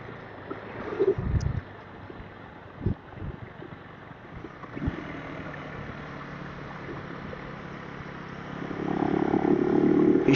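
A motorbike engine strains and drones while climbing steep mountain road slopes between Sevok and Gangtok in Sikkim, with a steady close rumble, wind buffeting and a louder surge near the end.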